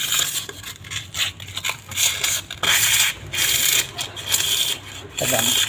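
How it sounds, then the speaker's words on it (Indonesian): Rough sandpaper rubs back and forth over a Yamaha scooter clutch lining in rhythmic bursts with short pauses between strokes, close and gritty. "Lalu kita amplas kampas gandanya."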